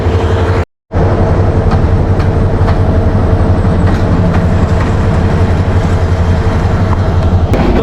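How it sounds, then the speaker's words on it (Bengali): The Cox's Bazar Express pulls out of Kamalapur railway station in Dhaka at night with a loud, close, continuous rumble and clatter of wheels and carriages, broken by a momentary dropout near the start. "আমাদের কক্সবাজার এক্সপ্রেস কিন্তু একদম কারেক্ট টাইম আজকে ছেড়ে দিয়েছে"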